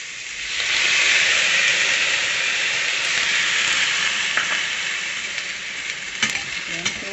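Sautéing luffa in a pan hisses loudly and steadily after a little water is added, the sizzle swelling and then easing with a few light scrapes of stirring.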